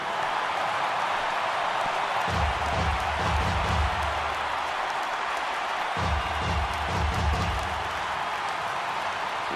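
A stadium crowd in a Phillies vs Giants baseball video game roars steadily as fans rise, with dense, loud cheering and two swells of deeper rumbling noise partway through.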